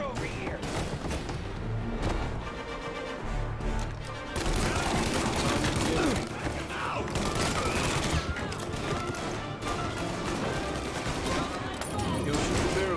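Gunfire in the video game Mafia: Definitive Edition: sustained volleys of shots and bursts with heavy booms, loud throughout, with voices talking over the shooting.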